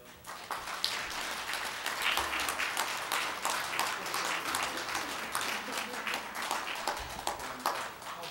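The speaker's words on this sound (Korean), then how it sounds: "박수 한번 해주세요." Church audience applause during a presentation of gifts, dense clapping from a crowd sustained throughout with small swells, fairly close and loud.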